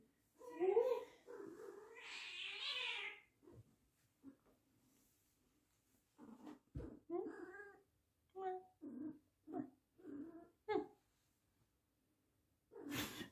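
A domestic cat meows in a few drawn-out cries at close range in a home, followed by a person talking with short pauses.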